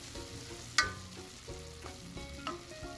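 Mince sizzles in a pan with garlic and ginger paste while a spoon stirs it, giving a steady close fry broken by several sharp scraping clicks against the metal.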